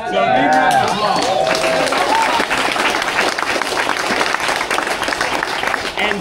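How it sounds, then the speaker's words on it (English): A crowd applauding loudly, dense continuous clapping with some cheering, sustained for several seconds at close range. "So big round of applause."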